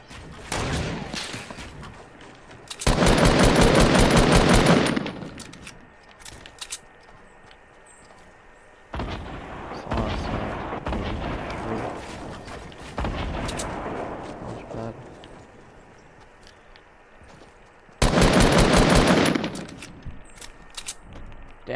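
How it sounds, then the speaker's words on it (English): Rockets and gunfire in the video game Fortnite: loud bursts of rapid gunfire in several separated volleys, with softer explosive rumbles between them, no speech. "This guy is just gonna use his rockets."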